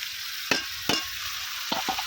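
Potatoes and eggplant stir-fry in oily spice paste, a steady close sizzle broken by a few sharp scraping clacks of a utensil stirring against the pan.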